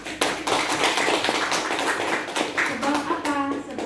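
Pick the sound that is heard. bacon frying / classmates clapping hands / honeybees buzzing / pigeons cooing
classmates clapping hands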